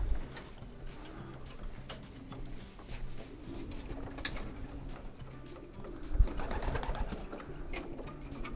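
Racing pigeons cooing softly in a loft on race-boarding day, low murmuring coos repeating steadily over a faint background hum, with a brief louder burst near the end.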